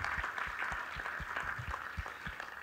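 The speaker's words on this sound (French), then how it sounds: "Est-ce qu'on peut applaudir Sylvie ?" An audience claps for Sylvie, newly heading an institute, at an astronomy event: steady broad applause under a rhythmic low thumping beat, moderately loud and continuous throughout.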